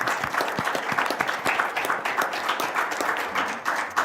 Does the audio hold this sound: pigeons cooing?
no